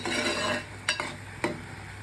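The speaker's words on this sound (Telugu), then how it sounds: "అయితే ఇప్పుడు ఈ మటన్ కర్రీలోని వంకాయలు వేస్తాను." Eggplant pieces go into mutton curry in a pan: a brief sizzling, stirring rush followed by a few sharp utensil scrapes and clinks against the pan, close and alone.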